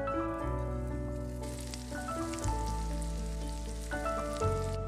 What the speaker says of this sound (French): il est temps de tout mettre dans la poêle, mais le saindoux doit fondre pendant 1 minute avant d'ajouter les oignons